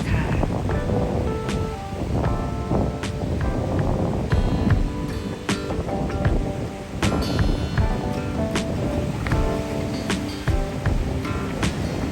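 Sea waves washing onto a white sand beach, a steady broad surf wash mixed with wind on the microphone, with someone talking over it throughout.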